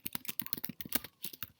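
Fast, light clicking of keys being typed on a computer keyboard, close by and steady with brief pauses between bursts.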